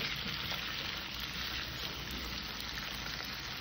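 Mutton and onions sauté in a pan for mutton masala, giving a thick, steady, hissing sizzle that stays even and close throughout, with no voices.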